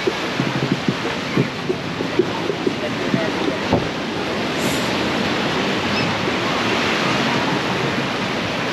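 Ocean waves washing close to shore on the beach at Cartagena, a steady broadband roar of surf that stays loud throughout, with some faint low rumbling and scattered knocks early on.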